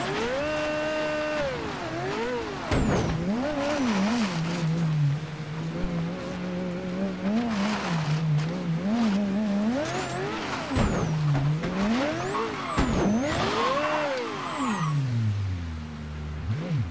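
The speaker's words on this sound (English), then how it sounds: "Wet, gross mud is not exactly perfect for the car that I'm in." A car in Mafia III revs and whines through wet mud, the engine pitch repeatedly rising and falling as it strains, loud and close, with game music and no speech.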